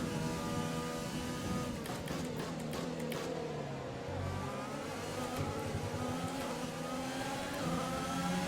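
A Formula 1 car engine in F1 2020 at the Australian GP, its high-pitched whine climbing and dropping through gear changes, loud and close, with repeated revving surges.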